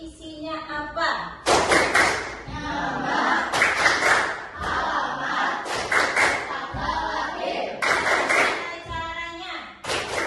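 Children in an Indonesian classroom perform a rhythmic clapping chant, sharp bursts of group claps in patterned beats alternating with chanted voices, loud and close throughout.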